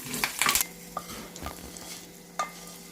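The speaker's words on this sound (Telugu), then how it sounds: "ఇది బాగా కలిసేటట్టు కలుపుకుందామండి" Tempering being stirred into gongura pulihora rice, close spoon scrapes and clinks against the vessel with a faint lingering sizzle, louder bursts early and again near the end, no talking.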